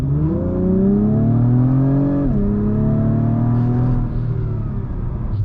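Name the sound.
sport sedan turbo engine accelerating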